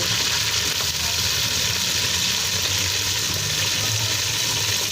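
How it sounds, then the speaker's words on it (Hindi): Green chilies hiss and crackle as they drop into a hot pan of spiced oil with black pepper, cloves and black cardamom, a loud steady fry that holds evenly throughout with no talking. "ये हम इसमें ग्रीन चिलियाँ डाल देंगे"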